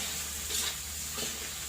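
Shrimp sizzle in a pan as they are stirred, giving a steady hiss with a couple of soft scraping swells over about two seconds.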